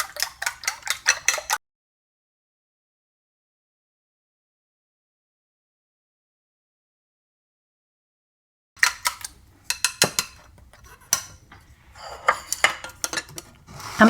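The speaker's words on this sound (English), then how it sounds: "beat them really well until the yolks and whites are fully combined" Eggs with salt are beaten briskly in a bowl, a fast run of clinking strokes for about a second and a half, then silence, then more rapid whisking taps and scraping against the bowl.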